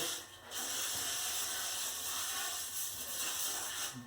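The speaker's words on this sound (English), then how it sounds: "I just go ahead and spray it down" A continuous WD-40 aerosol spray hisses close up for several seconds, broken by short pauses at the start and near the end, sprayed inside a stained toilet.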